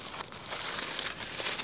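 A plastic bag holding dry bread ingredients (flour, baking powder and salt) crinkles and rustles steadily as it is handled outdoors in a forest, with no talk.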